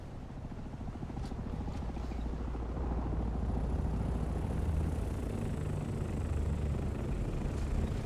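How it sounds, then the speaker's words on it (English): Helicopter flying in the survival game Dune Awakening: a steady, continuous low rotor and engine drone that holds at an even level throughout, with no talk over it. "Somebody had a chopper up here."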